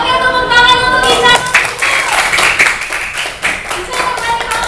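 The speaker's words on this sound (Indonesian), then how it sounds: "tepuk tangan untuk Ica." Children in a primary school classroom give a round of clapping for a classmate after her performance, a burst of many close hand claps that starts fast and then tapers off.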